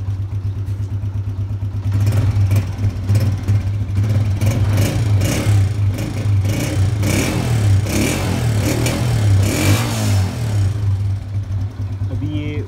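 A Honda 125 motorcycle engine, started cold after sitting for days, idles with a steady low thrum, a few light revs rising over it, while someone talks close by.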